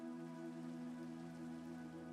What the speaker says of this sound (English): Who called the rain?